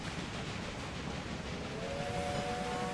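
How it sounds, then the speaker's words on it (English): A train pulls into a station in the railway management game Railway Empire. A low rumble of running gear is joined near the end by a sustained whistle tone, moderately loud and heard without voices. "There the train stops."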